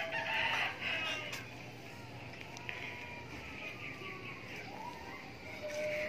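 Chickens cluck close by and a rooster crows, with some faint background voices mixed in.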